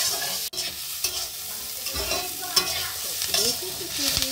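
Onion frying lightly in oil with whole garam masala for a homemade chicken curry, giving a close, steady sizzle broken by repeated stirring scrapes and clinks, with no voices.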